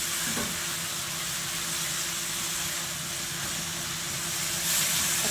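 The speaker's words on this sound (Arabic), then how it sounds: "دلوقتي متوسطه وهخليها اقعد اقلي فيها لغايه لما تشرب الصوص" Liver frying over medium heat in a pan of its own sauce, a steady broadband sizzle and hiss running without pause, close and even throughout, with no voices.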